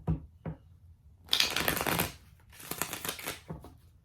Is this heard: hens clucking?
no